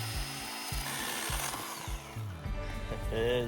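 Hand saw cutting wood at a high-country camp, a steady rhythmic series of back-and-forth strokes, fairly close, with outdoor background noise and a brief voice near the end.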